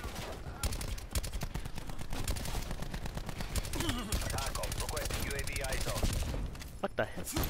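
Rapid automatic gunfire in the video game Call of Duty Black Ops 4, dense bursts of shots rattling almost without pause, loud and close, with brief musical or effect tones mixed in underneath.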